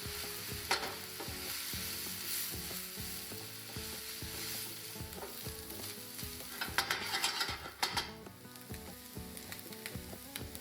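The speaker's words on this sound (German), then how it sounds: "Nun kommen die Zwiebeln dazu. Sie schwitzen im Fett des Fleisches mit an" Steady crackling sizzle of onions sweating in meat fat, with occasional scraping and stirring knocks in the pan, continuous and fairly close.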